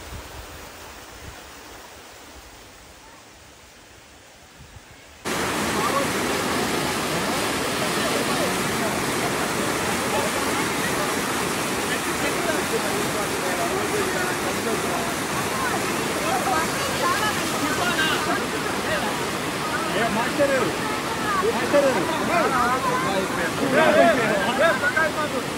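Roaring waterfall in the Araku hills near Vizag, heard close and loud as a dense continuous rush that starts abruptly after a quieter opening and holds steady to the end.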